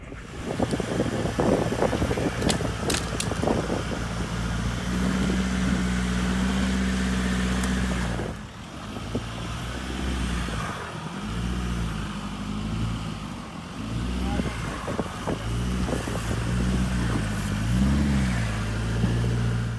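A 4WD engine set to an economy throttle mode revs repeatedly while climbing a rocky trail, with sustained loud surges, short dips and renewed pushes amid wind buffeting on the microphone.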